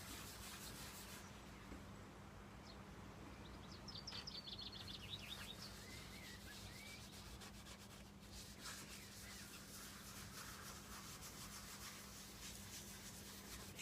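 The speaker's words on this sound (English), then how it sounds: "So I'm just working it across the wood, trying to get an even coat." Microporous finish being rubbed by hand across a burr oak sculpted vessel, a faint, steady soft brushing under a low constant hum, with a few distant bird chirps near the start.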